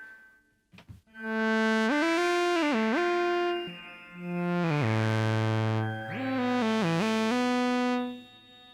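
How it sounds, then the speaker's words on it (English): A Moog synthesizer patch with shimmer reverb pitched a few octaves up, sustained tones that glide up and down between notes, loud and alone. "So here, this is a kind of shimmer reverb because we have it a few octaves higher."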